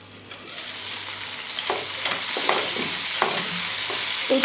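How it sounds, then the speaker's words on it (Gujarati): Tomatoes and onions cook over medium heat in a pan for a brinjal and potato curry, a steady loud sizzle broken by several scraping strokes as a spoon stirs the mixture. "તો હવે આપણે એકદમ મીડિયમ આંચે ટામેટાને 3 થી 4 મિનિટ માટે ચડવા દેવાના છે."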